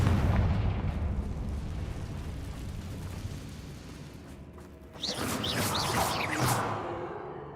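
A Confringo spell explosion in the video game Hogwarts Legacy starts with a loud, rumbling blast that slowly fades, then a second sharp burst with crackling, whistling debris follows.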